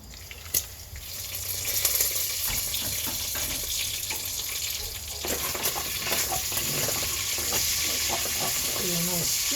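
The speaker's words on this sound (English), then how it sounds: "between the fan and the sizzling bacon" Crispy bacon sizzling in a frying pan, a constant crackling hiss with a kitchen fan humming underneath, moderately close, with occasional clinks of stirring and a brief voice near the end.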